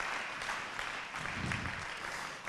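An audience at an awards ceremony applauds its sponsors, a dense, even wash of many hands clapping that stays steady and fairly distant, with no talk on top.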